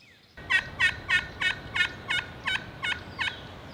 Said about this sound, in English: It was a gobbler, seemed to be by itself.